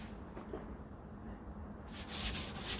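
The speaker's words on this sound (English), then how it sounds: "I'm just going to take some 800 and we'll do some wet sanding through here" Soft, steady rubbing of 800-grit abrasive paper wet sanding a 1969 Corvette C3 door, swelling into louder, brisker strokes near the end.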